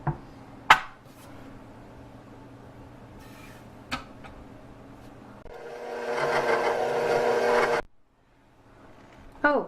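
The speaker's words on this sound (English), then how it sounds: "And now we're going to mix this for a minute or two until we have our cream cheese extremely creamy and with no lumps." Cream cheese being mixed in a bowl with an electric mixer for a chocolate chip cookie cheesecake. After a few clinks and knocks, the motor whirs loudly and steadily for about two seconds, then stops.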